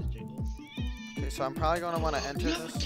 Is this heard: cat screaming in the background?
yes